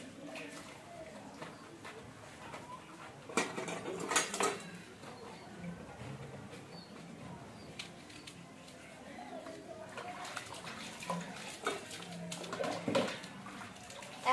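Dishes and pots being washed with soap and water in a rural village home, quiet clinks and scrapes of metal utensils with splashing water in short bursts, under nearby talking.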